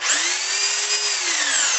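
Hammer drill in drill mode, running continuously with a steady high-pitched motor whine that holds level throughout and eases slightly at the end, loud and close with no talking.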